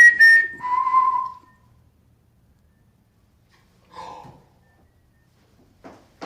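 A faint ghost-hunting EVP recording made in a mansion plays back a thin, brief whistle that rises and then falls, followed by long near-silence and a few soft, breathy sounds.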